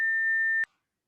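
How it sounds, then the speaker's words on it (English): A steady electronic tone holds for about half a second and then cuts off with a click, leaving silence. "So I just heard a weird beep for a while"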